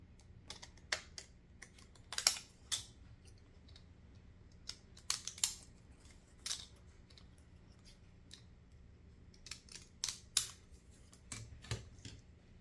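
Scissors snip out a paper image for a Christmas journal, quiet close cutting in short irregular bursts of crisp clicks with pauses in between.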